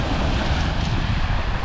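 A breeze blows across the central seaside beach at Lazarevskoye in Sochi, a loud, steady rush of wind buffeting the microphone, blended with a broad roar like distant surf.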